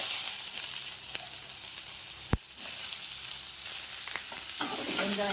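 Onions and green chillies sautéing in a pan on low heat give a steady close sizzle, with one sharp clank of the spoon midway and scattered stirring scrapes.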